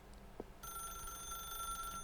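A telephone rings in The Stanley Parable Ultra Deluxe, a steady electronic bell tone starting after a short quiet moment and continuing to the end, clear and fairly close over faint room hum.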